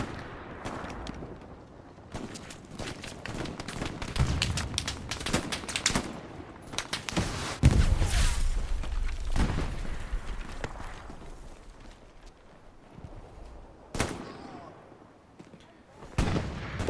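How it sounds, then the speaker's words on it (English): A bombing run over Foy in the Hell Let Loose video game during a competitive 49v49 console match: dense bursts of gunfire and heavy booming explosions crowd together, rising and falling across the whole stretch with no talk. "Bombing run called in on Foy."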